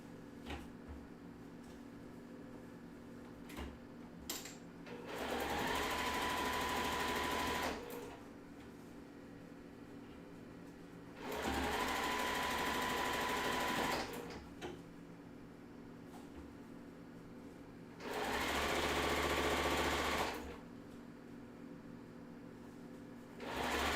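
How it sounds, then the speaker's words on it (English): Three separate bursts of a sewing machine stitching a quilt seam for a wave-pool block quilt, each a few seconds of steady motor whir, clear and fairly close, with quiet room noise between runs. "So we have one more seam to sew, which is that top one."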